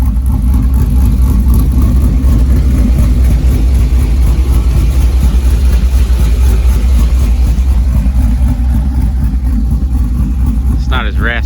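Idling truck with an LQ4 6.0 V8, BTR Truck Norris cam and long tube headers dumping through a single 3-inch pipe, rumbling steady and loud with a lopey low exhaust note throughout, a brief higher squeal at the very end.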